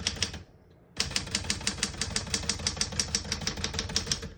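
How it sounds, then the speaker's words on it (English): Typing on a 1980s Smith-Corona Deville Deluxe portable typewriter: after a brief pause, a steady, close run of crisp key strikes follows at an even rhythm, with no talking. "We're going to keep that on single for now and finish typing."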